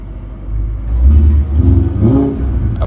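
Up close, a car engine idles and then revs twice, the pitch rising and falling in strong, rumbling bursts, with no voices.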